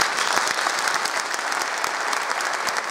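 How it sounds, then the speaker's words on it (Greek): Loud, dense audience applause at a staged performance of Erotokritos in Grevena, steady unbroken clapping from a large crowd throughout. "ένα πολύ δυνατό χειροκρότημα"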